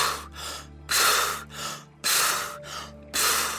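Recovery breathing after a breath-hold: deep, forceful gasping inhales and exhales in a slow steady rhythm, close and loud, four strong breaths with short pauses between.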